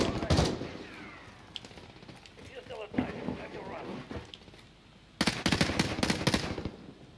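Grau assault rifle fire in Call of Duty Warzone: rapid bursts of automatic shots, one near the start and a loud sustained burst toward the end, mixed with game noise and players talking.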